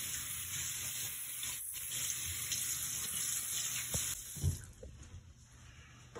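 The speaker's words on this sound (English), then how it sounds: "He's washing his face with soap." Running water hissing steadily from a tap while a boy washes his face with soap at a sink, with a few soft splashes and knocks near the end.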